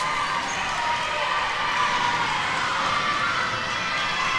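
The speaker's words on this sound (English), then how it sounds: "Very rowdy crowd here for the Choctaws today." A rowdy crowd cheers and shouts without a break at a middle school volleyball state semifinal between South Lawrence and Northview, forming a dense, steady roar that fills the whole stretch.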